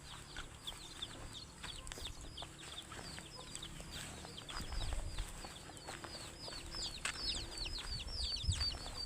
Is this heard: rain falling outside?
no